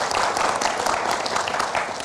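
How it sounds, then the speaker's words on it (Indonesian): Studio audience applause for Coach Nova on a talk show, a dense, even patter of many hands clapping, loud and close, with no speech over it. "kita berikan tepuk tangan untuk Coach Nova"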